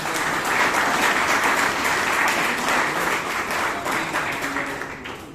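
A roomful of members applauds at a Bangalore Toastmasters meeting after a table topics session, the clapping continuous and fairly loud throughout before easing off in the final second.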